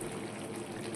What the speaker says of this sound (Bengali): মশলা ধোয়া জলটা দিয়ে দিচ্ছি ওপর থেকে।